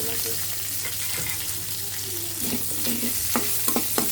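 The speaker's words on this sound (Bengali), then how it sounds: "ভাজা ভাজা করে নেব।" Black cumin and green chillies fry with softened onions in a pan, a continuous sizzle under scraping spatula strokes that grow busier with a few sharp clacks toward the end.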